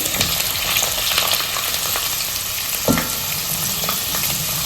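Sliced onions and dried red chillies fry in hot oil on a low flame for a chicken pickle tempering, giving a loud, dense, continuous crackle and sizzle up close, with a scrape of stirring partway through.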